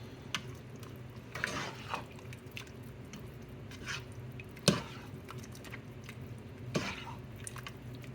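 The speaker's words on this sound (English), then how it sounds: "And stir them up in there." A spoon stirs shrimp chilli in a pot, giving soft wet squelches and occasional sharp clinks against the side over a low simmering background.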